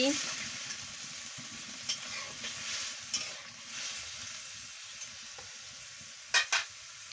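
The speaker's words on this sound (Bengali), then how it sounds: "এবার আমি পরিমাণ মতন জলটা দিয়ে দিচ্ছি দিয়ে ভালো করে নাড়িয়ে নিচ্ছি" Cauliflower stalk, brinjal and kundru chachchori simmers in a pan after water goes in, with a soft wet bubbling sizzle and gentle stirring, punctuated by a few louder clanks of a spatula against the pan.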